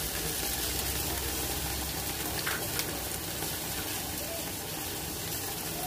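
Ginger and garlic paste fries with browning onions in hot oil for a Punjabi-style chana masala, giving a loud, continuous sizzle with occasional stirring scrapes throughout.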